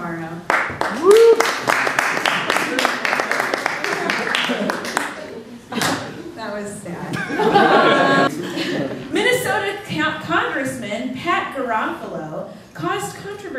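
A late-night talk show studio audience breaks into brisk clapping with scattered whoops and chuckles, then the room settles into talk and laughter.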